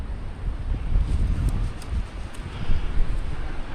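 Strong wind blasting and roaring steadily through open country during a Southern Alberta blizzard, loud and close with gusts swelling and easing, mixed with rustling from trees.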